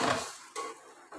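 A lid is set on a cooking pot of chicken pulao with water and green chillies; a few short metallic clinks and clatters come close and fairly loud, with no talking.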